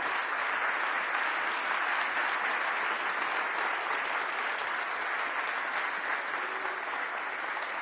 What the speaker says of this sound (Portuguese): se essas palmas foram para mim, eu não as mereço.